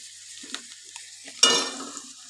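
Green chilli paste, cumin powder and spices are sautéed in hot oil, giving a close, sudden sizzle that flares up sharply midway and then settles into steady frying crackle, with faint stirring scrapes before it.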